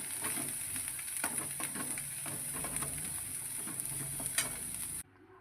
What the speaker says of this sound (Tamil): அந்த பேஸ்ட்டை சேர்த்துக்கோங்க. Chat it for 2 minutes,